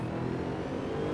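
A Mercedes SLS engine revs steadily and loudly at Silverstone in Assetto Corsa, a sustained harmonic drone with no talk over it.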